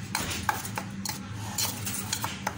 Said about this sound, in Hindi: अब मैं इसको मिक्स कर लूंगी।